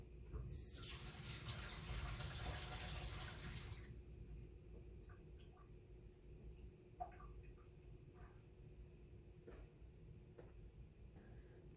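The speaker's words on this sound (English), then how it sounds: "I pour water" Water pours and splashes for about three seconds, loud and close, into a watercolor pack during a painting workshop, then trails off into quiet room tone with a few faint clicks and taps.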